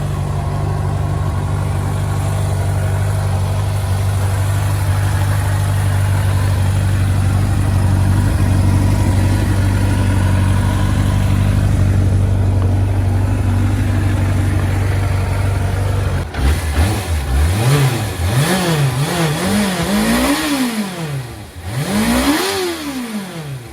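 A Suzuki RF400, the 400 cc Japanese-market sport motorcycle, idles loudly and steadily up close, then its engine is blipped through a series of sharp revs that rise and fall.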